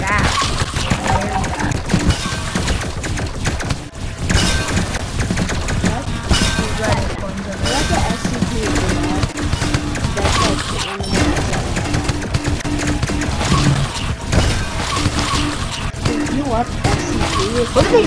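Explosions in a survival building video game, a dense run of booming, crackling blasts that fills the whole stretch at high loudness without letting up.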